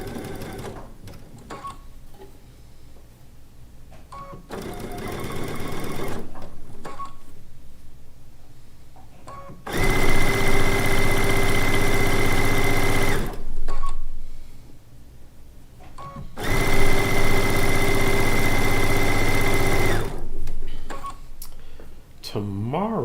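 A domestic sewing machine stitches quilt blocks in two long, steady runs of rapid needle whirring, with quieter handling sounds and brief pauses between bursts.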